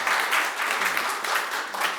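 Members of a farming cooperative in a forum audience clap together in a steady burst of applause, dense and moderately loud, with pulsing swells over two seconds.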